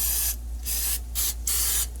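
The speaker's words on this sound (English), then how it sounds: "Now I'm taking my olive oil and I'm simply spraying." Olive oil from a spray bottle misted onto raw chicken for the air fryer, heard as four loud, close hissing bursts in quick succession, each roughly a quarter to half second long, with brief pauses between.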